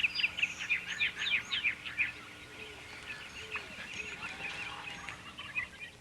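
A flock of wild turkeys, gobblers among many hens, calls from a moderate distance in a burst of rapid yelps and clucks, then thins to scattered calls over a quiet outdoor background.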